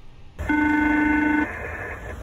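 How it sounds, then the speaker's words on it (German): A SELCAL check chime from a Vatsim online flight simulation rings like a telephone: a steady electronic two-tone chime holds for about a second, then a fainter tone lingers briefly, with no voices. "Das sind die Töne, die ihr hört bei einem Cell Call Check"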